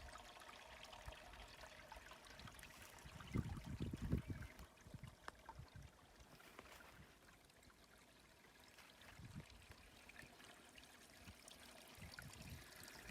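Soft, steady trickle of a small forest stream in Galloway Forest with occasional gurgles and splashes, fairly faint and close by, with no talking.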